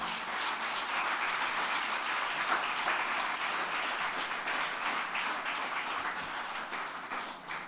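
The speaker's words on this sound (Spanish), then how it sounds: "Dale un aplauso al Señor" A church congregation applauds the Lord in a sustained, dense burst of clapping that holds steady for several seconds before thinning toward the end, with no talk over it.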